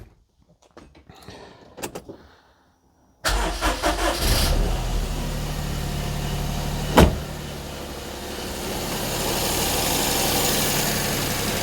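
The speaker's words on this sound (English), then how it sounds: "Oh, that's a very low idle, Desmond." A Perodua Kenari car engine starts after a few faint knocks, then settles into a steady, quiet low idle with a brief sharp spike midway, heard close and alone.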